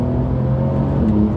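Porsche 992 Carrera S engine under hard acceleration, a steady loud droning tone with harmonics slightly rising in pitch, heard from inside the car with no talk.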